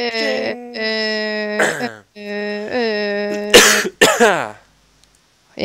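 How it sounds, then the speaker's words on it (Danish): Several harmonic throat-clearing sounds and rough coughs come in quick bursts, close and loud, during Danish Minecraft gameplay. A short silence follows. "host"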